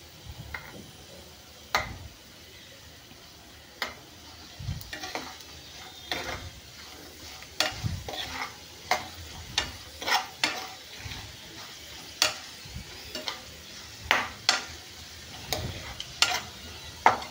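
Raisins frying and being stirred in a pan for rava sheera: a soft sizzle underneath with repeated sharp scraping strokes of a spoon, irregular at first, then coming roughly every second, close up with no speech.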